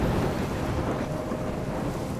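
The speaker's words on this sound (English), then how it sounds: "Forest and it's raining. I'm trapped in a storm?" Rain falls steadily through a forest during a thunderstorm in the video game Life is Strange, a dense, even wash of noise with a low rumble underneath and no voices.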